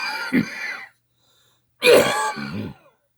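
A man coughs twice, a short harsh cough followed after a pause by a longer, rougher one that trails off, close and alone in a quiet room.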